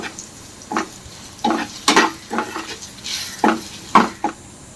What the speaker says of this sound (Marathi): एक चमचा मिरची पावडर हळद पावडर आणि चवीनुसार मीठ टाकून हलवून घेऊ